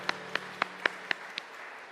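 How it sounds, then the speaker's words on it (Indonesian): Clapping during a church service: six sharp, evenly spaced claps in a quick steady rhythm, then quiet. "Mari kita berikan tepuk tangan untuk kemuliaan Tuhan."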